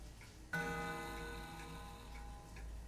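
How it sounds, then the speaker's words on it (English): An old pendulum clock in the video game Spirit Hunter: NG gives a single resonant chime-like strike that rings out and slowly decays, faint and alone. "When I spin the long hand, the clock makes a noise."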